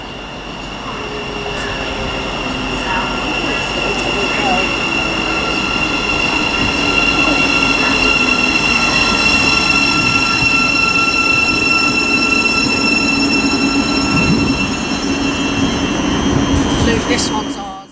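A Thameslink Class 700 electric train, unit 700009 running from Bedford to Gatwick Airport, passes through Luton Airport Parkway station, its roar building and holding loud and close with high wheel squeal and whine before dropping away at the end.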